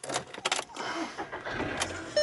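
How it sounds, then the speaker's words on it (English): A 2011 Volkswagen Polo 1.2 Match with a 59 bhp petrol engine is started, with a short whirring crank and a catch settling into a quiet idle, heard close from inside the car with faint key and interior clicks. "If I start the car up,"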